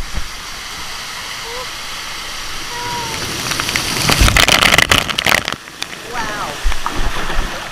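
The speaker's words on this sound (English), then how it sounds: "That was a lot of water." Water crashes and splashes around swimmers in a water park pool, a loud broadband burst of rushing water swelling mid-clip and falling back, with excited voices and an exclamation over it.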